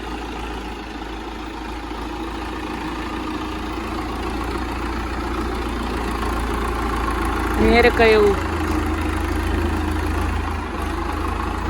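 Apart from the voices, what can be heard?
Swaraj 744 tractor engine idling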